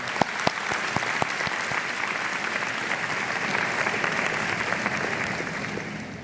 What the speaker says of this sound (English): let's give a round of applause for our families